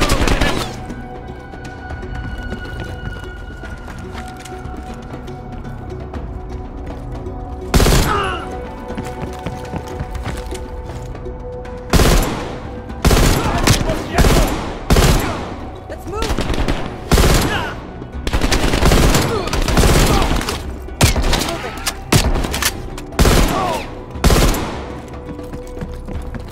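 Gunfire in the Call of Duty Black Ops Cold War game comes as sharp, loud bursts and single shots, sparse at first and then rapid and clustered, over a low background of ambience.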